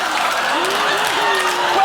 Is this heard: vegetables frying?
no